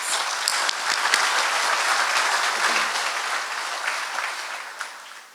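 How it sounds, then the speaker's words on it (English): An awards ceremony audience claps steadily throughout, a dense wash of applause that fades slightly toward the end. "Let's give our plant representatives another round of applause."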